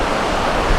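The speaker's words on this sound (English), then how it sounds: "It's got waves coming in up the walkway here." Ocean waves surging up a beach walkway at J Bay after a tsunami, a loud, dense, continuous rush of churning water with wind buffeting the microphone.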